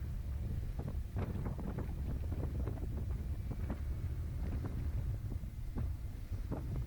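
Heavy, continuous wind roar buffets the microphone while riding a Honda CBR500R motorcycle through pouring rain on a very windy day, a loud, unbroken rumble with gusty fluctuations and no speech.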